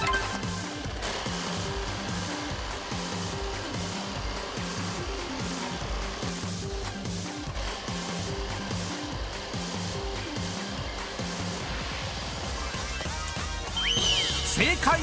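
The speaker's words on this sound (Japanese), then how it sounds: "今からお見せする特殊なミシンがどんな服のどの部分を縫っているのか" Steady, dense mechanical whir and rapid rhythmic chatter of a special industrial sewing machine stitching the back pocket onto jeans, running continuously and fairly loud throughout.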